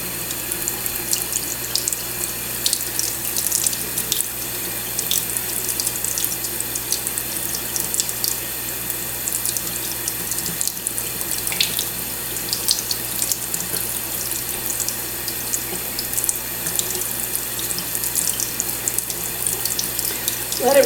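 Tap water runs steadily from a faucet over a cockatiel during a bath, a constant close splashing hiss with no pauses.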